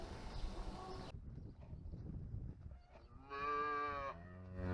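Several cows moo on a dairy farm, with a loud harmonic low at the end. Broadband barn noise fills the first second and is followed by quieter stretches.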